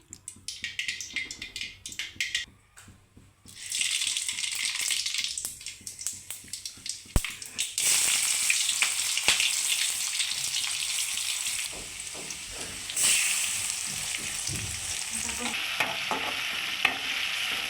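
Oil and vegetables for a mixed vegetable curry sizzle and crackle in a hot pan with stirring scrapes, quieter at first, then loud and continuous after a few seconds, with no talk.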